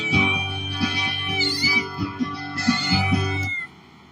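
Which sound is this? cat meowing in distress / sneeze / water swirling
cat meowing in distress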